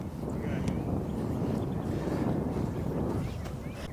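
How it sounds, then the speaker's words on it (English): Wind buffets a microphone on an open golf course at Painted Hills Golf Club, a steady low rumbling roar that fills the whole clip with a few faint higher sounds over it. "The wind's in our face, so it's countering it."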